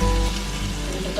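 Curry leaves sizzle in hot oil for a raw banana bhaji, a loud, dense crackling hiss that bursts in and then holds steady over a faint low hum.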